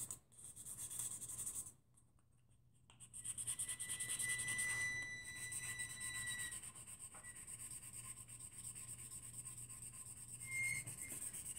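An epoxy glitter tumbler is hand-sanded with 600 grit sandpaper, giving a faint, close, steady scratchy rubbing with a short pause early on and no talking.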